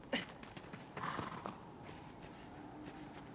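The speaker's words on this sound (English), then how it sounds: "What a great horse we got." Agro the horse in Shadow of the Colossus moving with faint clip-clop hoofbeats, a short snort-like burst near the start and soft thuds that fade into quiet ambience.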